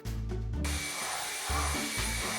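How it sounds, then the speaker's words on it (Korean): A household vacuum cleaner runs steadily in a home, with a continuous loud motor drone and broadband airflow hiss that shifts slightly as the machine is moved. "청소기 아주 쉽게 돌리죠"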